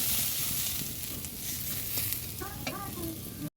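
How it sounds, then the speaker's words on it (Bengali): Potatoes sizzle in hot oil in a pan as they are stirred with spices, a steady close frying hiss with scraping stir sounds running throughout. "এদিক দিয়ে আলুটা নেড়ে নিচ্ছি মশলার সাথে"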